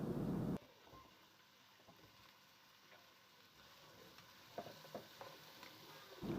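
Chopped potatoes and vegetables frying in a pan for lentil soup, a soft steady sizzle with occasional stirring scrapes, quiet and close.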